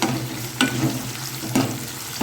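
Onions with garlic and slit green chili sauté in a pan for a sardine (mathi) fish gravy, giving a steady close sizzle broken by three sharp stirring scrapes, with no talking.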